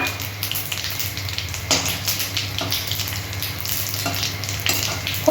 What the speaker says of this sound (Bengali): গোটা গরম মশলা ফোড়ন দিয়ে দিলাম।